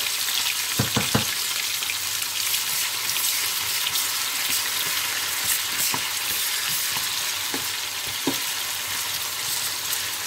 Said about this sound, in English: So the Jollof rice needs a lot of onions. So while the onions is frying